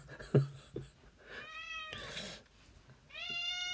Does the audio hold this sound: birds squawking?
no